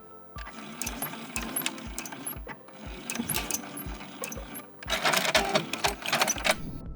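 A sewing machine back stitches fabric for a stuffed toy pear. Close, rhythmic thumps of the needle ride over a motor whir in short runs, ending in a louder, faster burst.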